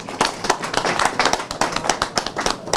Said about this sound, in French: Je voudrais que toute l'assistance les applaudisse.